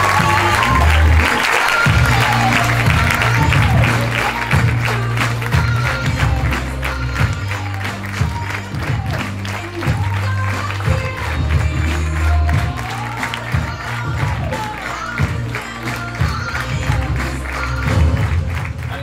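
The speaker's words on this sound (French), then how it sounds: "accueillir les 8 joueurs sur scène sous vos applaudissements" Theatre audience at a Paris improv festival applauds and cheers as eight players come on stage, with steady dense clapping, scattered whoops and loud music pulsing underneath throughout.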